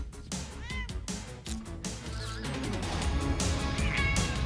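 A cat on a film set gives several short meows, with other voices and studio sound in the background.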